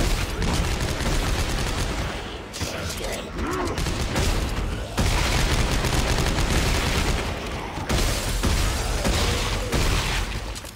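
Dense, continuous weapon fire from the plasma cutter in Dead Space 2, loud and sustained across the whole stretch with brief dips, mechanical clatter mixed in and no voices.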